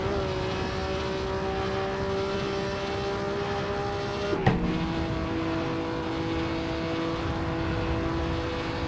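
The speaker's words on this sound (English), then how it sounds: "I'm driving a super duper fast car here" A 1950 Formula 1 race car engine at Reims-Gueux in the Assetto Corsa racing game drones at a steady high pitch throughout, with a brief bump partway through.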